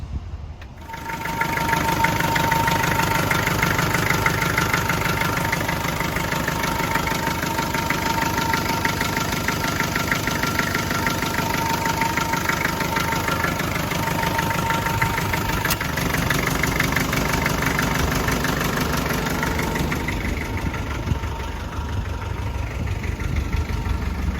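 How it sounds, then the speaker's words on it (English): A 1993 Land Rover Defender engine idles nearby with a steady, continuous low rumble and a faint rhythmic knock that holds throughout, shifting slightly near the end. "next we're going to crank up the engine"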